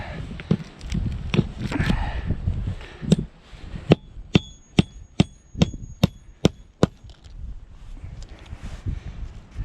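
Hammer driving a nail into a roof during a DIY repair: a run of about ten sharp, evenly spaced metallic strikes, loud and close, framed by scattered knocks and handling noise before and after.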